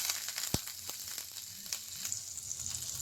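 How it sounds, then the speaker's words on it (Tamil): Butter melting in a hot pan before bread slices go in for sweet bread halwa, giving a steady, close sizzle with a few sharp pops and crackles and no voices. "பட்டர்லாம் நல்லா மெல்ட் ஆகி வரட்டும்."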